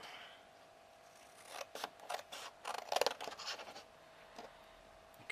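Scissors snip through paper while a book cover is cut to size, a short burst of close, crisp cuts in the middle of an otherwise quiet indoor stretch.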